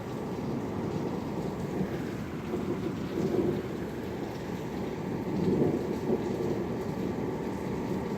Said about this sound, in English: That's a thunderstorm.